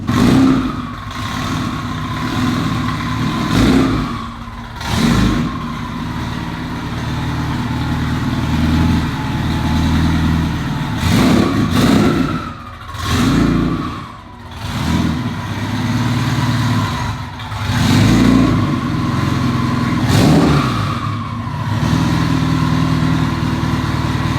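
A twin-turbo Subaru engine idles with a steady rumble, broken by repeated sharp revs that rise and fall, loud and close, with no talking.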